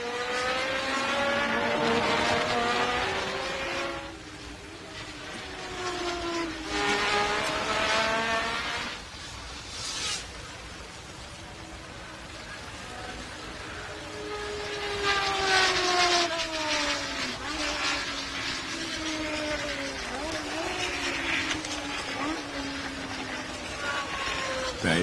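Simulated race car engines in a 1978 South African Grand Prix racing game, including Andretti's car, whine loudly and continuously, pitch sweeping up and down through gear changes, with a brief dip around ten seconds, beneath ongoing commentary.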